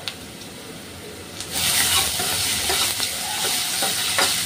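Onions frying in a pan with ginger-garlic paste, starting quiet and then swelling into a loud, steady sizzle with occasional stirring clatters, close by.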